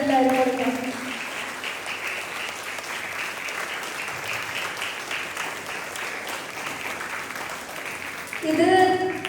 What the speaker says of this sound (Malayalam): നല്ലൊരു കയ്യടി നമ്മുടെ പ്രിയപ്പെട്ട നിരഞ്ജനെല്ലാവരും കൊടുക്കാം.